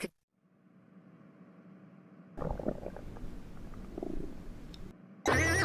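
A low, gurgling stomach rumble grows and churns for a few seconds in a quiet room, ending with a sudden loud burst of noise.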